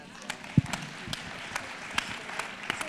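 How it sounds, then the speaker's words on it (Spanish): Sparse applause at a panel discussion, a scattering of separate claps from a small audience, fairly faint over a soft background murmur, with one louder thump near the start. "Híjole, eso merece un aplauso."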